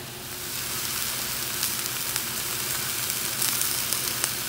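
Chicken sizzles steadily on a hot grill pan, a loud, continuous crackling hiss with small pops, heard alone without talk.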